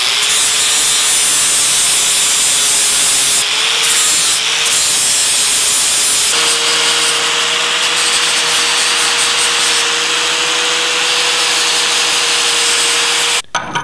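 Steel surfaces of a Pitman arm puller being cleaned up before welding, a continuous loud abrasive grinding rub with a steady tone that shifts pitch partway through and cuts off at the end.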